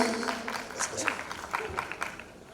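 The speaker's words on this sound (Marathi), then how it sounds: "एकदा जोरदार टाळ्या अभिजितसाठी" A crowd at a Marathi film trailer launch claps for the groom, Abhijit, a dense patter of hand claps running throughout, mixed with a voice speaking over it.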